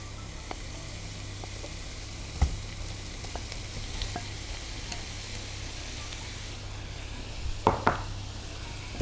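Meat sizzles and fries steadily in a hot pan for a meat pie, a dense continuous crackle at close range with a few sharp clicks and clatters of utensils against the pan.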